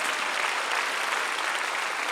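A church congregation breaks into steady, dense applause for an elder at a peace and reunification worship service, a loud continuous wash of clapping with no gaps.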